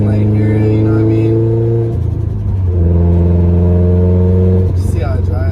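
A 500hp Subaru STi engine rumbles steadily while cruising, with a rise and fall in revs partway through, heard from inside the car under continuous loud engine tone.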